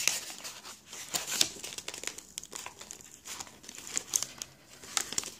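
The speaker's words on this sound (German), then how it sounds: "Der Tesafilm lässt sich hier so schön lösen" Sellotape peeled loose from crinkly wrapping paper while unwrapping a small gift, giving several seconds of close, continuous rustling and crackling with sharper tearing bursts and no talk.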